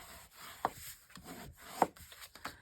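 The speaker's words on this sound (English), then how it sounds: "Gonna burnish those folds." A bone folder or burnishing tool rubs down folded paper for a 12x12 scrapbook junk journal. Two short, scratchy strokes stand out above a faint, quiet background of lighter rubbing.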